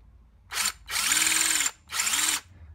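A power drill bit drills out a stripped Torx bolt in a carbon fibre bike tube. It runs in three loud, close bursts, a short one and then two longer ones, with the motor whining and pitching down slightly under load. No talking is heard.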